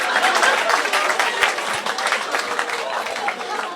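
A crowd of people applauding and laughing in the background, steady dense clapping at moderate distance with talking mixed in throughout.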